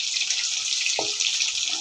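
Water pours from a pipe into a bucket outside a home, giving a continuous bright hissing splash that stays steady and fairly loud, with a brief low knock partway through.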